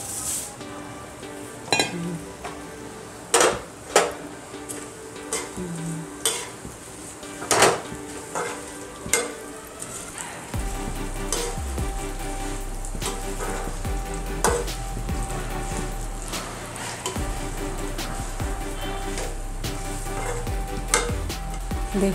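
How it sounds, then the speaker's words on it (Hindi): Poha (flattened rice) fries in a pan with a continuous sizzle, broken by repeated clinks and scrapes of a spoon stirring against the metal. "पोहा उसको तल लूंगी जरा।"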